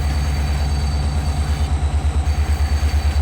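A game locomotive from a Farming Simulator 22 train pack runs steadily, its deep engine drone pulsing in a regular rhythm, loud and close with no voices.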